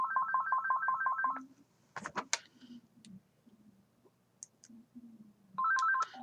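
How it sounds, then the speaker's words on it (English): A telephone rings in a rapid warbling electronic trill, a burst at the start and another near the end, separated by quiet clicks and small handling noises, with no talk. "phone call not for me"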